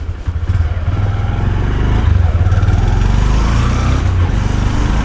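A 2022 Honda CB125F motorcycle underway, its small single-cylinder engine buzzing steadily and close, with a throbbing low note that rises slightly as it pulls along, alone without voices.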